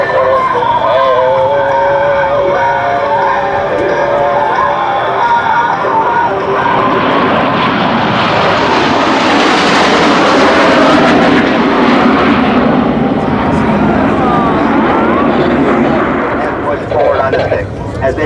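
US Navy Blue Angels jets in tight diamond formation roar past at an airshow, the loud rushing jet noise swelling to a peak midway and then fading, with an announcer talking over it.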